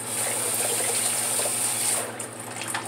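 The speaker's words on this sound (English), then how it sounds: "I do a warm water rinse to get the slickness of the soap off my head." Warm water runs steadily from a bathroom tap during a razor head shave, a close, continuous gushing stream that softens and shifts near the end.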